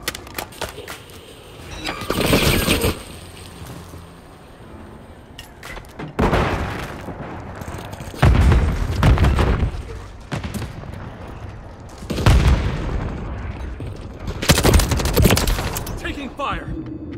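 Bursts of automatic gunfire in Call of Duty Modern Warfare III crack loud and close in several volleys with quieter stretches between, mixed with booms and short shouted callouts.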